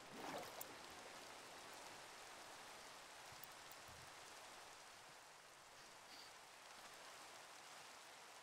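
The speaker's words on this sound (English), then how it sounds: "We got our first rain in the world." Steady rain in a Minecraft world, a soft, even hiss of falling drops that holds constant throughout with no voices.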